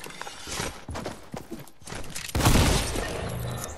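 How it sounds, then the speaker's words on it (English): Shotgun blasts in a video game, a few sharp cracking bursts with mechanical clatter between them, ending in one loud, long, crashing blast. "I'm gonna use the shotgun."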